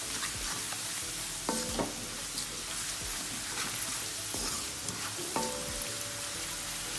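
Rice with turmeric and chilli flakes cooks in a pan with a constant close sizzle, and a spoon scrapes and knocks against the pan a few times while it is stirred. Nobody talks.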